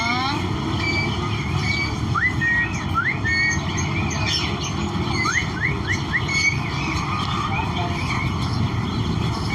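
A pair of talking myna birds, a local Karachi breed, give clear whistled calls and chirps repeatedly over a steady background hum of traffic and low noise.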